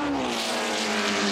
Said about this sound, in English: What a lovely sound from that Cosworth engine.